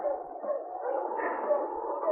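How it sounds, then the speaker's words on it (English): Distant dogs howl in a snowy wilderness cabin setting for a radio drama, a faint continuous wavering chorus of howls with no talk over it. "the dogs at the cabin also heard the distant team and howled a reply"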